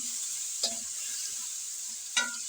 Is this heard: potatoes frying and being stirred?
yes